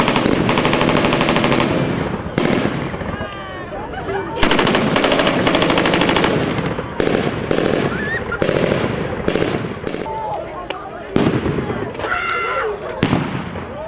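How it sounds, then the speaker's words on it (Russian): Loud, sustained bursts of rapid gunfire crackle continuously, mixed with sharper single shots and distant whistling shells, dense and battle-like throughout, at a WWII battle reenactment with heavy tanks in Zhabinka, Belarus. "Оглушительная стрельба, пронзительный свист снарядов и грозные тяжелые танки."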